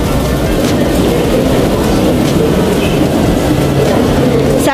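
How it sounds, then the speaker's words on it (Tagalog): A Hong Kong MTR train rolls past with a loud, steady rumble and rail noise, and a faint high squeal near the end. "At ipapasilip po sa inyo yung tren dito sa Hong Kong"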